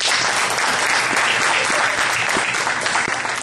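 Loud, sustained applause from an audience at a legal lecture honoring a law professor, dense and continuous clapping close by with a faint crowd murmur underneath.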